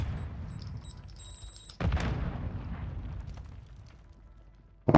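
Grenade explosion in Call of Duty: Modern Warfare II, a sudden sharp blast about two seconds in that decays into a rumbling tail over a low background of battle noise.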